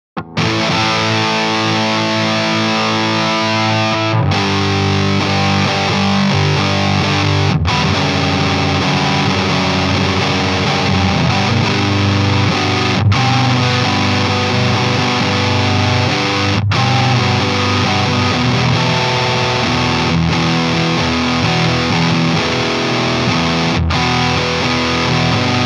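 A heavily fuzzed electric guitar through a Warlow Fuzz Monstrosity pedal plays sustained, buzzing chords, several struck in turn with brief gaps, loud and thick with distortion.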